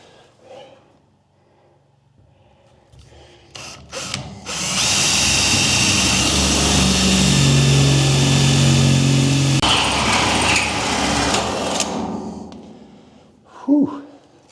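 A power drill bores a 2-inch hole with a carbide-tipped bit through a shipping container wall, running loud and steady for about five seconds of sustained grinding, with brief bursts before and after.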